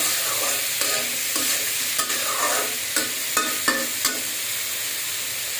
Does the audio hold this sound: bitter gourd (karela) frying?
yes